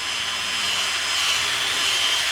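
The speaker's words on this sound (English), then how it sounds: "we're just gonna drill a couple holes" A small handheld drill bores holes into the bottom of a PVC pipe for a mini pond sprinkler, a steady close whirring grind with a high motor whine, continuous and without pauses.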